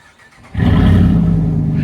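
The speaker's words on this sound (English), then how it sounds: "All right, here's a no muffler startup." Ram Rebel pickup fitted with a Stainless Works exhaust and no muffler starting up: quiet at first, then the engine catches about halfway through and settles into a steady, fairly mellow idle rumble.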